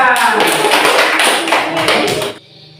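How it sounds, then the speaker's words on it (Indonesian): A burst of clapping from an elementary school class, many hands fast and uneven, with voices mixed in, ending abruptly after about two seconds. "Oke, tepuk tangan semua."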